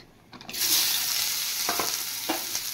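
Chopped onions dropped into hot oil in a pan after frying dried loitta fish (lote shutki), bursting into a loud steady sizzle with a few stirring scrapes.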